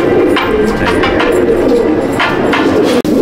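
Magnet pigeons crowd a loft, their low cooing forming a dense, steady murmur that runs almost unbroken, with a sharp brief dropout near the end.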